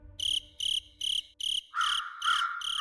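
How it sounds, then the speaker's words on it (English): Crickets chirp in a steady rhythm of short, evenly spaced pulses, close and clear, and a second cricket joins with a slightly lower trill near the end, with no voices. "sound of crickets"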